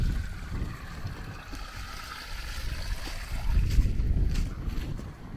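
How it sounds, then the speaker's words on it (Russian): Rushing water of the Belbek river in Crimea, swollen after rains, flows steadily downstream of the water intake, a continuous low broadband roar mixed with wind buffeting the microphone, with no talking. "Можете видеть, какой поток воды идет."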